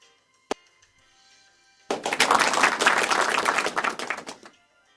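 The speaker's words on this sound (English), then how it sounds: "A round of applause, people, for my mic." A single sharp knock, then a couple of seconds of dense, steady clapping from a group that fades out after about two seconds.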